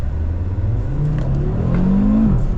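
An Audi RS3 hatchback engine revs up, a loud close growl climbing steadily in pitch before dropping off at the end.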